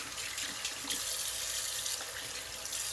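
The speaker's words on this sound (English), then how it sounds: "Rinse the hand." A tap runs steadily into a sink as a hand is rinsed during a wet shave, a soft continuous splashing hiss close by with no talking.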